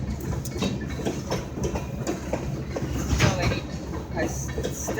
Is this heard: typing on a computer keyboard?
no